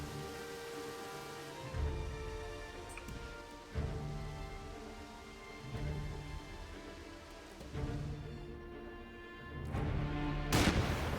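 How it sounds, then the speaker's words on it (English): Gunfire in a firefight from The Lamplighters League, a turn-based tactical game: several loud, heavy shots land at irregular intervals of about two seconds over a steady rumbling, rain-like bed, with a sharp burst near the end. "Now this is a firefight"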